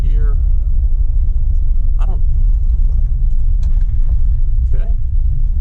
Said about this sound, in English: And then downshifting right into second gear.